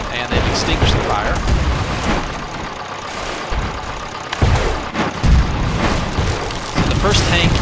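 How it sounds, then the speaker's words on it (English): Cannon fire slamming into a tank in the Airships: Conquer the Skies video game, heavy booming impacts and rumbling explosions in repeated bursts, loud and close, with someone talking over them. "The first shot just ripped into this thing and tore off that top gun."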